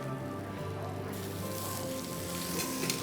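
Butter hits a pan where salmon is searing, and a steady sizzle grows louder and hisses brighter once the butter is in. It is close and continuous, with no speech.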